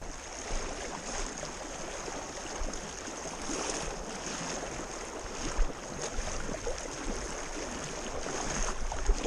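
Fast, high river current rushing around a wader crossing a swollen trout stream, a steady broad wash of water with small surges throughout, close and moderately loud, no voices.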